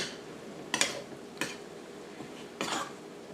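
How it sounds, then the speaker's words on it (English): Spoon stirring flour into sausage and oil in a pan, giving three distinct scraping clinks against the metal over a faint background, no talking. "So you just stir the flour into your sausage and your oil."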